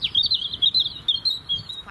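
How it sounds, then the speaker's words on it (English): Small birds such as starlings, robins and blackbirds chatter in garden hedgerows, with a steady run of high, rapid chirps and tweets at moderate distance, continuous throughout and with no talking. "You can hear lots of birds chattering in the hedgerows."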